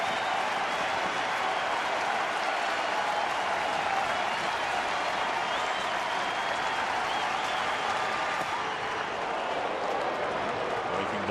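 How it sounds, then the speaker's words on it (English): Dense, steady roar of a large baseball crowd cheering and applauding at a Twins vs Brewers game in Minnesota in the ninth inning, sustained and loud throughout with a slight lift near the end. "Twins fans cheering, hoping for the final out."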